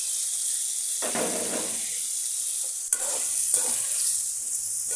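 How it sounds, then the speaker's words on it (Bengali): Potatoes stir-fry in a pan for a prawn bhuna curry: steady hot-oil sizzle broken by a few loud scraping stirs and rustling bursts as the pieces are turned. "আলু আগে দিয়ে একটু সিদ্ধ হওয়ার জন্য একটু কষিয়ে দেবো।"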